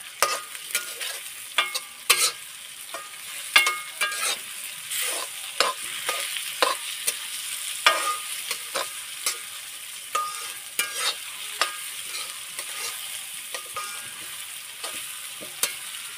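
Chicken stir-fried in a large kadhai over a wood-fired stove gives a steady sizzle, broken by repeated sharp scrapes and knocks of the spoon against the pan at an irregular pace, close and moderately loud, with no speech.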